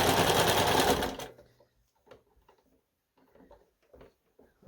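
Sewing machine stitching a dog costume: a loud, rapid mechanical whirring burst for about a second, then stopping, followed by quiet scattered clicks and handling noises.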